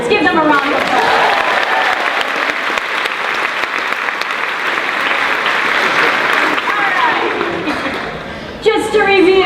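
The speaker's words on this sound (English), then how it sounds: "Give them a round of applause." An audience at an all-staff kickoff gives a round of applause for actors, sustained loud clapping that fades toward the end before a voice speaks briefly at the close.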